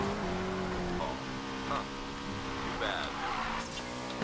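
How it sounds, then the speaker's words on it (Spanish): In the Need for Speed Payback racing game, a car engine revs continuously at high pitch while tires screech in short squealing bursts as the car drifts. Game music plays under it and a voice talks over it. "Derrapa y activa turbo."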